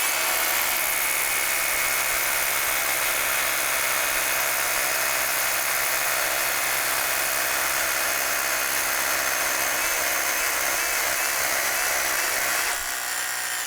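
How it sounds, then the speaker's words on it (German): A Bosch rotary hammer drills steadily for about fourteen seconds, a loud, continuous high-pitched whine and rattle that stops abruptly at the end, with no speech. "aber zuerst bohren wir mal,"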